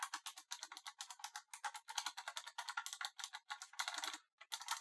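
Quick, crisp clicks from the keys of a Razer Tartarus mech-membrane gaming keypad, pressed close up in rapid irregular bursts with no talking.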